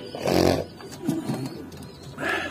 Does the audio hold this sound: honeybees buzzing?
no